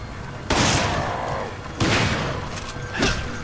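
Three heavy Magnum revolver shots in Resident Evil 5, each a loud sharp blast with a long ringing tail, spaced about a second apart.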